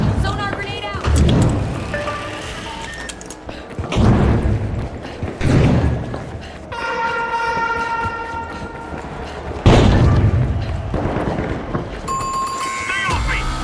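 A sonar grenade goes off in a video game, heavy thuds followed by a series of pulsing electronic tones, mixed with game effects and voices.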